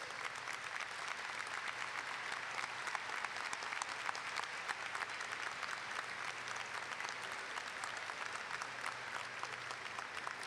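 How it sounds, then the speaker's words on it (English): A steady round of applause for teachers and staff at a 2011 high school graduation ceremony, with many hands clapping evenly throughout. It sounds faint and distant, with no talk over it. "I'd like to ask them to now please stand for a much-deserved round of applause"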